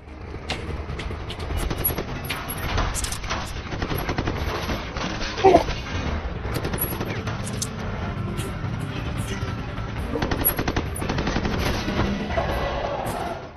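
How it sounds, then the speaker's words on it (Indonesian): Gunfire in an action-film shootout between former special forces soldiers, with sustained loud bursts of automatic fire and scattered shots over vehicle noise and faint voices. "Hingga baku tembak pun terjadi lagi."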